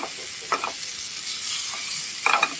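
Chana dal roasting in a pan while being stirred, a soft continuous sizzle with a few brief scraping clicks of stirring, fairly quiet and close, with no talking.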